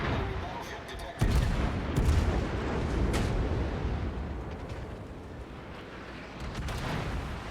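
Naval game gunfire, with a Worcester cruiser shooting, comes as a series of deep booming blasts over a rumbling battle background, with a voice talking over it.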